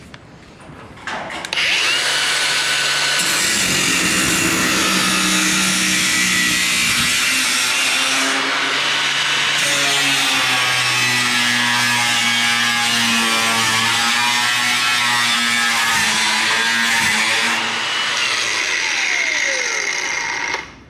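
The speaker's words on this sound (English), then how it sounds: "I'm impressed with this little Bauer with the battery adapter on it. I've always used a corded one, but this brushless motor is actually pretty sweet." Cordless Bauer brushless angle grinder with a battery adapter cutting into a Frigidaire dryer, a loud, steady, close whine that runs for about nineteen seconds with slight shifts in pitch as the disc bites the metal.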